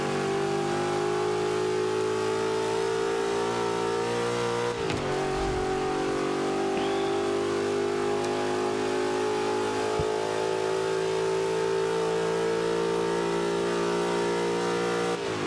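A Ford Mustang muscle car in the racing game Forza 5 accelerates along a straightaway, its engine droning loud and steady with a brief dip, likely a gear change, partway through.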